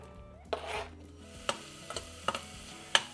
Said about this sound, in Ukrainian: змащуємо її оливковою олією і викладаємо обсмажуватися цибульку